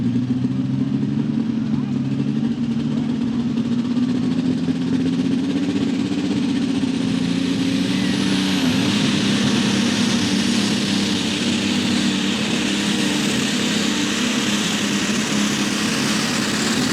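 An alcohol-powered Farmall tractor roars steadily at a tractor pull in Ardmore, Tennessee, a loud continuous engine drone heard from a distance that holds throughout, with a faint whine rising near the middle.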